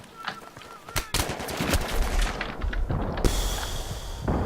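Rapid bursts of Battlefield 3 gunfire crackle and pop close by, sharp repeated shots with some sustained automatic fire and a chaotic, noisy backdrop.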